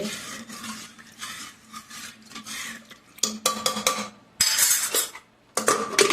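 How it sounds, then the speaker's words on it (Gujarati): A metal spoon scraping and clinking around inside a pressure cooker, stirring water, salt and groundnut oil in uneven bursts, pausing briefly between strokes, close and fairly loud. "હવે બધું સારી રીતે મિક્સ કરી લઈએ"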